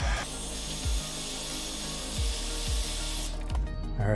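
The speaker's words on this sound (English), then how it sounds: "so what we're gonna do is blow heat" A heat gun blows a steady, loud broadband hiss of hot air onto an iPhone 13 screen to soften its adhesive, with brief low thumps or shifts in the airflow partway through before it cuts off near the end.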